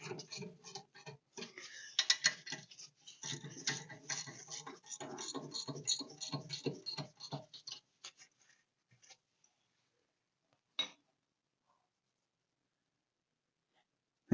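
A 1/2 inch wrench works a bolt on a Mopar Pirate Jack disc brake conversion kit, giving a rapid run of close ratcheting clicks for about eight seconds, then a few scattered taps and a lone sharp knock.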